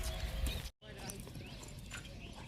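A mare's hooves clip-clop in a steady brisk rhythm at moderate distance, broken by a momentary dropout, with voices faintly in the background.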